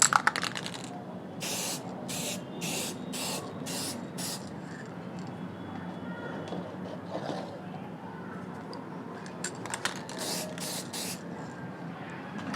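Black glossy spray paint hisses from an aerosol can in a series of short, evenly spaced bursts, close and clear, with quieter handling sounds between the sprays and no talking.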